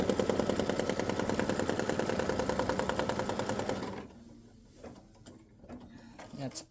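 An embroidery machine stitches a dog-dad greeting card design with a dense, rapid, steady mechanical chatter for about four seconds. It then stops, leaving only faint clicks and handling noises.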